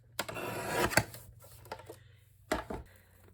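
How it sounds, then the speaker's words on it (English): Cardstock being trimmed produces a few short rasping cuts and rubbing scrapes up close, two clusters of crisp strokes with quiet pauses between. "we're just going to trim this out"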